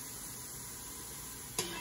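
Onions and garlic sizzling in a pan for spaghetti sauce, a steady close hiss of frying with a brief utensil scrape near the end.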